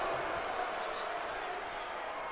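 Steady crowd noise from a wrestling arena in WWE 2K19, a continuous roar and buzz of cheering spectators at a constant level throughout, with no distinct claps standing out.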